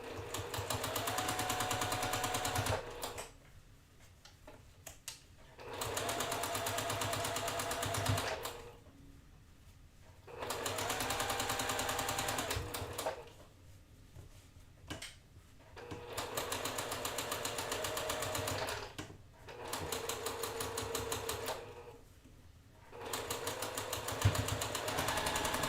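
A sewing machine runs the last seam of a quilt block in five bursts of a few seconds each, with brief pauses between them, close and clear with no voices.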